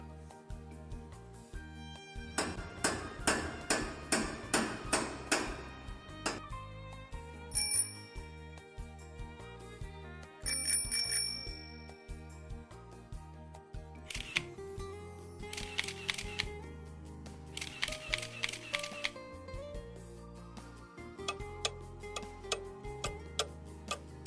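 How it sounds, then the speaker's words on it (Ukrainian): A sequence of object sounds: rapid hammer-like knocking, a bicycle bell ring, camera shutter clicks, and clock ticking, each played in turn over soft background music. "Ми почули з вами стукіт молотка, дзвоник велосипеда, клацання фотоапарату та тікання годинника."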